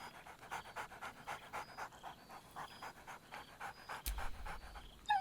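A dog in the video game Baldur's Gate 3 panting rhythmically in quick, close, steady breaths, followed by a short burst of other sound near the end.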